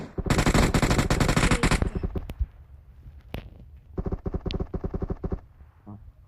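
Automatic gunfire in the PUBG Mobile video game, a dense rapid burst lasting nearly two seconds, then a couple of single shots and a second shorter burst, loud and close.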